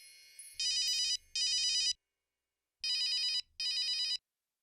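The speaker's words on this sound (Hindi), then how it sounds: "इस फोन को भी अभी बजना था।" An electronic telephone ringing close by in two double bursts, each pair of warbling rings separated by a short pause.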